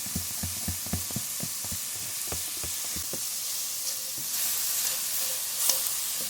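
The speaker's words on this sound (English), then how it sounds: "I'm gonna go ahead and put my ginger in" Ginger hitting hot oil in a pot for lo mein, a continuous soft sizzle with a quick run of light tapping and knocking early on that fades, the frying swelling slightly later.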